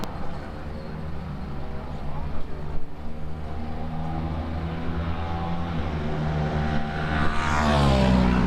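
Race motorcycles on a warm-up lap for an STC 650 and SSP 300 race produce a steady engine drone that grows louder near the end, with a commentator talking over it.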